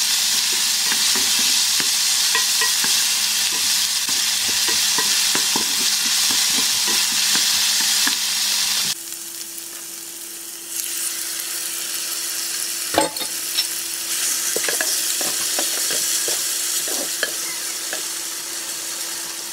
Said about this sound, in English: So I have it frying up for about 5 minutes on high heat.